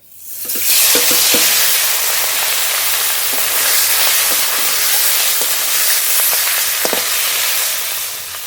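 Small hilsa fish fry in hot oil, a loud, dense sizzle that swells in quickly at the start and then stays constant, with scattered pops and crackles and no speech.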